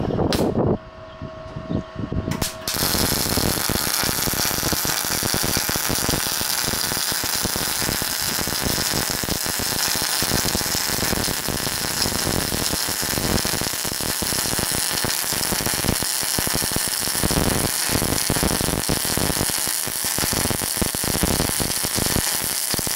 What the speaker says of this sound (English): Wow, that is a much prettier weld.